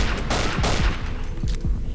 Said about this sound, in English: it's semi-automatic, so it fires as fast as I can pull the trigger